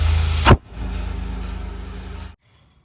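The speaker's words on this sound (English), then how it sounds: "you want to come back here to the exhaust with the engine running" A car engine idles steadily up close with a low, throbbing exhaust rumble, then abruptly cuts off into near silence.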